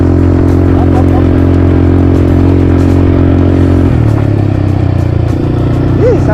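A motorcycle carries a family along a road in Zambales, its engine droning loud and steady at close range with a slight drop in pitch partway through and faint clatter over the hum.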